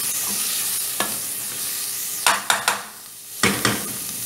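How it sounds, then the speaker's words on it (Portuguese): Garlic, onion, bell pepper and dedo-de-moça chili pepper frying in a pan for black beans, a constant close sizzle broken by several sharp scrapes and clacks as a utensil stirs, with no talking. "já coloquei aqui o alho e a cebola para dourar"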